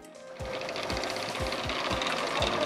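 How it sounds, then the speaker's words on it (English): A homemade brushless electric motor built from plastic jars, drawing about 400 milliamps at around 10 volts, runs with a steady mechanical whir and a regular low thumping pulse roughly twice a second, close and alone. "By increasing the current flow, our brushless motor starts working."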